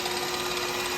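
Wood lathe spinning a pen blank at about 3,000 RPM during wet sanding, a steady, loud, unbroken whirring hum with no voices.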